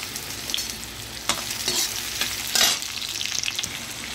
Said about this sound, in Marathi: मी याच्यामध्ये थोडेसे हलके लाल होईस्तोवर असे भाजून घेते